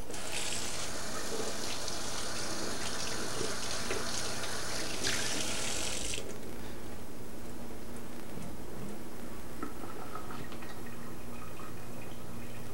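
Tap water runs steadily over halved mushrooms being rinsed in a kitchen sink while cooking Thai food, a loud continuous splash that stops after about six seconds, leaving faint drips and quiet handling noises.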